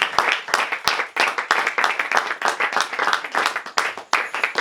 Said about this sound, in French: Est-ce qu'on peut acclamer pour le Seigneur Jésus-Christ?